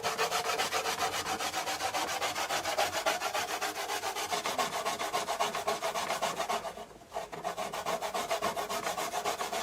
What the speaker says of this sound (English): I'm going to grate my coconut now